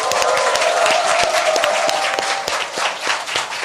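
A Korean talk-show studio audience applauds energetically, with dense, continuous clapping at close range for a few seconds and light cheering mixed in.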